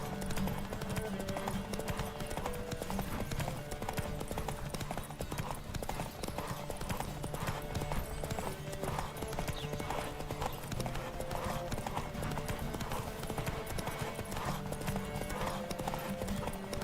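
Rapid rhythmic hoofbeats of a galloping video game horse pound steadily throughout, with a constant busy background mix.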